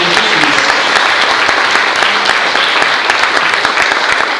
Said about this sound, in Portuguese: Vamos aplaudir o Senhor pela vida de Deus.